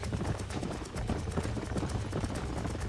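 Horse hooves pound in a fast, steady galloping rhythm in Red Dead Redemption, close and continuous, mixed with dense outdoor game ambience.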